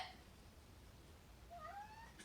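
A cat meows once, a faint rising and falling cry near the end, over a quiet low background hum.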